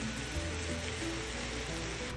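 A pot of sugar and water syrup for tanghulu boils over medium-high heat, giving a steady, dense bubbling hiss with no talk.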